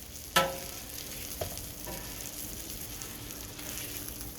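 Burger patties frying on a hot cooking surface give off a steady, low sizzle, with one sharp clatter near the start and a softer tap a second later; no talking.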